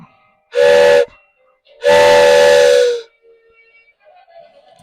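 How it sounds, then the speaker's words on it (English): Two loud steam train whistle blasts, a short one followed by a longer sustained toot, as a train comes into a station, clear and close with faint hiss afterward. "the train is coming into the station"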